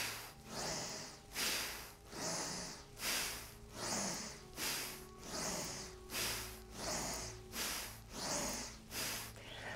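Rapid, forceful thoracic Bhastrika yoga breathing: about ten loud, rhythmic nasal breath cycles, evenly paced, each push of air strong and close with no talking.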